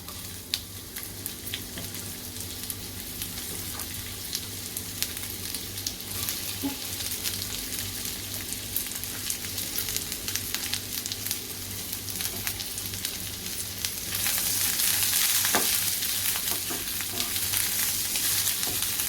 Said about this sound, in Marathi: कांदा थोडा ब्राऊन होतोपर्यंत आपल्याला शिजवून घ्यायचा आहे